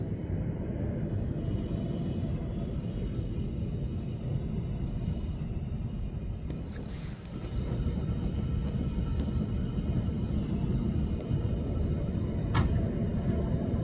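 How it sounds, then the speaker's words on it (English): A small military jet's engine gives a low, continuous roar that rumbles steadily during a pre-flight inspection after refuelling, briefly dipping before it swells again, with a sharp clank near the end. "Sounds a little loud for that little jet."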